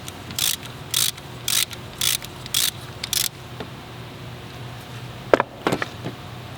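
A hand ratchet snugs up the timing belt tensioner bolts on a VW engine. Six quick, evenly spaced clicking bursts come close to the mic, followed by a couple of sharp metallic knocks.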